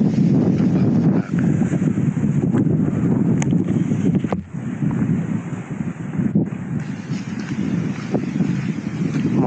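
Strong wind roars steadily against the microphone at a mountain campsite at night, a loud continuous buffeting rumble with brief dips, no voices.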